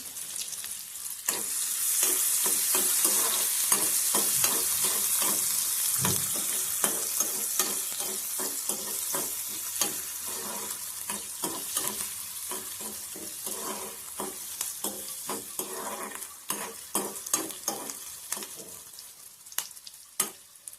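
Onion frying in a pan with a bay leaf, a loud, bright hiss of sizzling that slowly fades while spatula stirs and scrapes knock in a quick, uneven rhythm close by, no voices.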